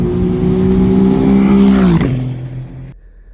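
An Aston Martin race car on a testing day at the Oulton Park circuit approaches with a loud, rising engine note, sweeps close past with a sharp drop in pitch, then fades quickly into the distance.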